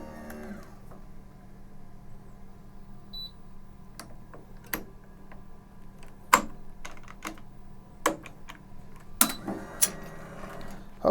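A racquet stringing machine tensions and clamps string on an Ektelon racquet, producing a series of sharp clicks and clacks that grow more frequent toward the end over a low steady hum, with no talk.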